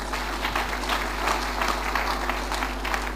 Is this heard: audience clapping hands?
yes